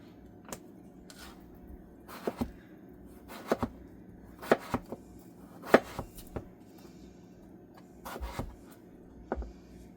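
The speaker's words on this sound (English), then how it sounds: "I'm just going to go ahead and get these potatoes chopped right up" A chef's knife chops potatoes on a cutting board in quick, irregular bursts of sharp taps, close and fairly quiet, with pauses between runs.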